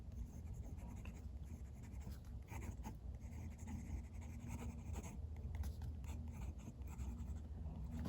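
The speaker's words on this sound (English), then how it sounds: "Let's do some writing." Jinhao 85 fountain pen with an extra fine steel hooded nib and Waterman Serenity Blue ink writing on paper, a faint, continuous close-up scratching and scribbling with small strokes and pauses, no talk.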